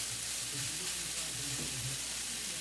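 Spam with leftover rice and vegetables sautés in a pan, giving off a steady sizzling hiss with faint stirring scrapes, close up and without speech.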